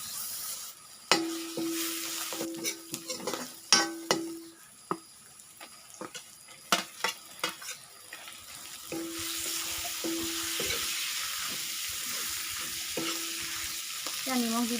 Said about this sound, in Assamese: এতিয়া মই তেলতে এইখিনি ৰেডি কৰি লোৱা মছলাখিনি দি দিছোঁ।